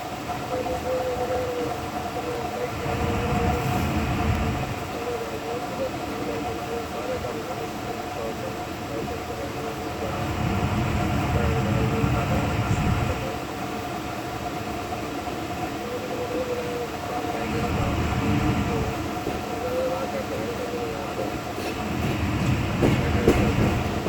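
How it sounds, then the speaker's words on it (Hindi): The 146 Down Sukkur Express rolls out of Bhiria Road railway station, a steady loud rumble from on board with rhythmic surges of wheel and carriage noise recurring every several seconds. "हमारी ट्रेन यानी कि 146 डाउन सक्खर एक्सप्रेस निकल रही है"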